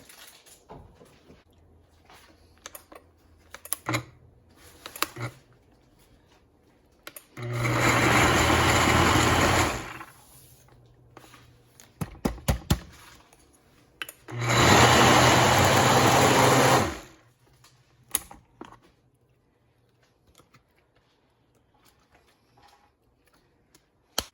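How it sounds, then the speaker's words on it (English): Food processor pureeing ground beef for Jamaican beef patty filling, running in two loud bursts of a few seconds each with quiet handling clicks before, between and after. "So I'm going to puree the meat a little bit to make it get a little fine, so it can roll in the dough better."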